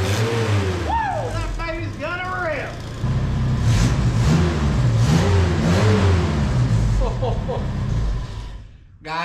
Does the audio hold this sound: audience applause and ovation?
no